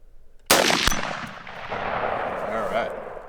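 A rifle fitted with a Spina Optics 4x20 carry-handle scope fires a single sharp, loud shot, followed by a second crack and a long fading echo and rumble.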